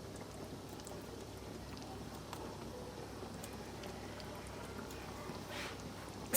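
Meat bolognese sauce with added water and tomato puree cooks in a pot, a faint, steady low bubbling simmer with small scattered pops and no talking.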